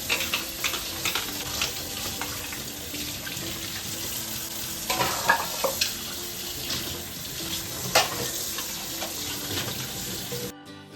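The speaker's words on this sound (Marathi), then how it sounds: "सो पटापट आधी मी भांडी घासून घेतली" Running water from a tap splashes continuously while dishes and utensils clink and scrape being scrubbed nearby, with occasional sharper knocks.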